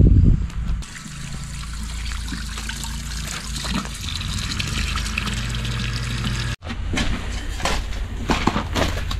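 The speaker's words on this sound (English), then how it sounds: "Let me turn the water back on and show you." Water gushing and trickling through a corrugated drain pipe just cleared with a snake and jetter, a steady close rush with small splashes and no talking.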